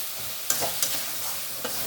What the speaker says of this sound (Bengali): দিয়ে এবার এটাকে কষতে হবে